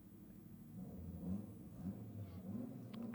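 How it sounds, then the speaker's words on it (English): A supercharged drag car engine rumbles and rises steadily, with a high-pitched supercharger whine riding over the low roar, heard from some distance with crowd noise. "listen to that supercharger just singing his head off"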